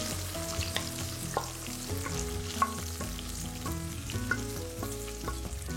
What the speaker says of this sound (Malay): Tumis bahan kisar sampai garing, warna berubah jadi sedikit gelap dan kering sikit.